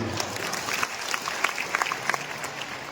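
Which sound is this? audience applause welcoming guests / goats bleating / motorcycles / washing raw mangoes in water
audience applause welcoming guests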